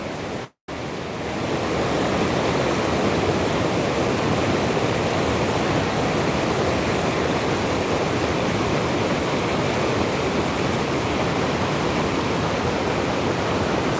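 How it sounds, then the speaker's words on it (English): Floodwater rushing over the Hope River in Kingston after Hurricane Melissa, a loud, constant roaring wash that fills the scene after a brief cut, with no voices. "taking you even closer to the Hope River, where the water is coming over"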